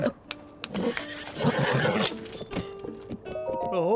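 Horse hooves from the video game Zelda Tears of the Kingdom, a steady clip-clop of a ridden horse with a brief whinny and game music layered over it, moderately loud throughout.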